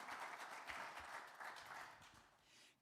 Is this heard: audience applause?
yes